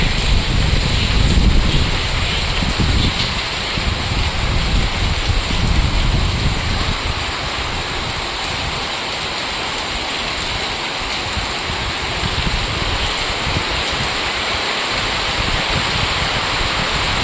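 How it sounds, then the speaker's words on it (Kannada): Heavy rain pours steadily in a dense, continuous hiss, loud and close, with a low rumble of rushing river water beneath and no voices. "ಕರ್ನಾಟಕಕ್ಕೆ ತುಂಬ ಅದ್ಧೂರಿಯಾಗಿ ಮಳೆ ಬೀಳ್ತಾ ಇದೆ"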